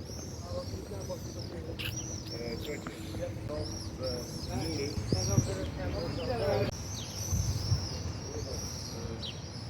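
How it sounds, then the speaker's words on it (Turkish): Pigeons coo and small birds chirp repeatedly in a city setting, moderately close, against steady low urban background hum, with people talking intermittently nearby. "Kuşlar, kuşlar."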